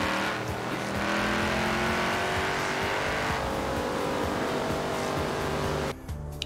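A V8 car engine in Forza Horizon 4 roars loudly and steadily, revving with rising and falling pitch, with a brief tire squeal before it cuts off near the end.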